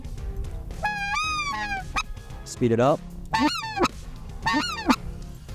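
Loud, close hand-blown goose call imitating white-fronted geese, honking and yodeling in quick two-note bursts, repeated several times, with a brief spoken phrase near the start.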